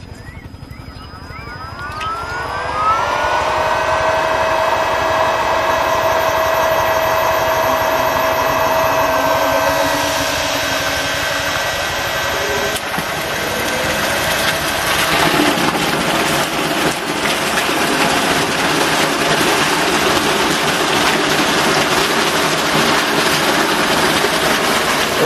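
A solar-powered irrigation pump motor driven by a VFD inverter starts up with a rising whine that settles into a steady, loud hum and drone lasting throughout, with no talk over it.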